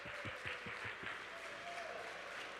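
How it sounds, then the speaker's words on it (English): An indoor audience at a company launch event applauds, giving a steady wash of many hands clapping that sounds somewhat distant and faint, with a voice faintly audible. "Let's give a round of applause for the new members of our family."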